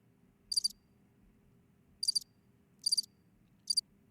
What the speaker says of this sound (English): we got some crickets.